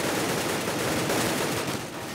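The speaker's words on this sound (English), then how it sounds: "I do see some gunfire being exchanged between these two teams." Rapid automatic gunfire from a Counter-Strike match fills the moment, a dense continuous burst of shots that stays loud throughout without pause.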